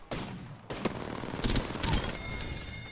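Rapid bursts of gunfire in the battle royale shooter Apex Legends, sharp cracks rolling into sustained automatic fire with brief gaps, loud and close throughout three seconds.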